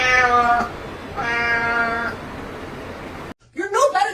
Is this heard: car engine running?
no